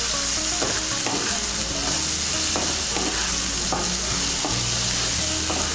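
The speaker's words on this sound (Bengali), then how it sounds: "মিশিয়ে নেব নুন আর হলুদের গুঁড়োটা সবজির সঙ্গে।" Mixed vegetables with salt and turmeric fry in hot oil for a vegetarian chira pulao, a steady loud sizzle broken by regular scraping stirs of a spatula against the pan.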